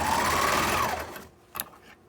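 A sewing machine runs fast and loud stitching a washable fabric shoe cover, then stops abruptly, followed by a short click and quiet.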